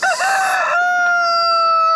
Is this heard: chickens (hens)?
yes